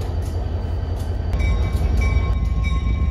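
Steam locomotive 501 pulls a tourist train past nearby, giving a loud, steady rumble of wheels and rail noise with faint high squeals and clanks throughout.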